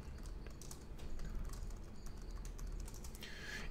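A terminal command being typed on a computer keyboard, a quiet run of quick irregular key clicks close to the microphone with no talking.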